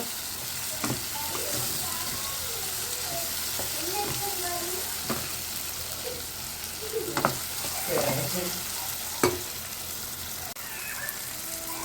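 Tomatoes and curry leaves sautéing in a pan for spicy kara chutney, a steady soft sizzle with scattered stirring scrapes and clicks throughout, no talking.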